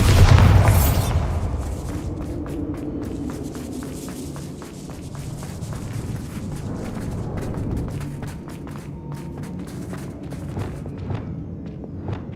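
Bombarda spell explosion in the Hogwarts Legacy video game, a loud booming blast at the very start that decays into a rumbling tail, followed by scattered clicks and footstep-like taps at a moderate level.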